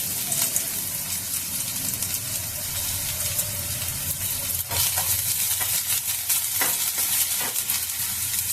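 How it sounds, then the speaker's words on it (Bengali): Chopped garlic hitting hot oil in a pan while cooking chili paneer, giving a constant close-up sizzle with crackling pops and occasional stirring scrapes, no talking over it. "এবার আমি এই তেলের ওপরে দিয়ে দেবো রসুন কুচি।"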